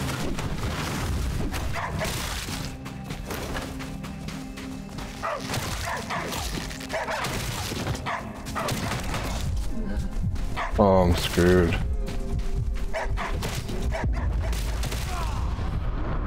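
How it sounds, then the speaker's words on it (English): Bush dogs bark, yip and whimper while attacking in the survival game Soulmask, the pack's cries mixed with crashing hits and clatter. Someone talks over the chaos. "Bush dogs."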